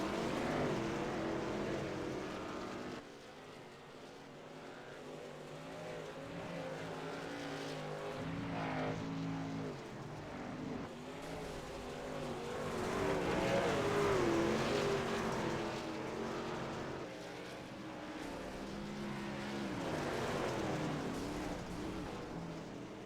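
Race trucks roar around the Eldora dirt track, a dense, steady blend of several engines at racing speed with rising and falling surges as the pack passes, continuous and fairly distant with no talking.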